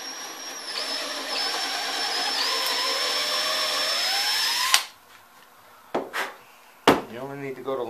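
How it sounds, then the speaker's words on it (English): A drill with a 1/4 inch bit bores straight down into wood while a dolly is being built. The motor whines loudly and shifts in pitch for nearly five seconds, then stops, followed by a few sharp knocks and handling sounds. "put my wood drill in here. It's a 1/4 inch bit. Drill straight down."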